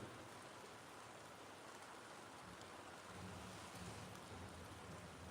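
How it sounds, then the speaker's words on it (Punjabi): Early-morning rain falls in a Punjab village before dawn, a dense, steady hiss that holds evenly throughout and swells slightly near the end, with no voices over it. "ਸਾਡੇ ਇਲਾਕੇ ਦੇ ਵਿੱਚ ਸਵੇਰ 3:30 ਵਜੇ ਤੋਂ ਥੋੜੀ ਦੇਰ ਪਹਿਲਾਂ ਤੋਂ ਹੀ ਮੀਂਹ ਪੈ ਰਿਹਾ"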